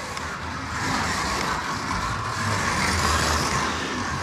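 A rear-wheel-drive slot car in Jägermeister livery laps a track, making a steady, close, continuous whirring buzz that swells slightly after the first second and holds without a break.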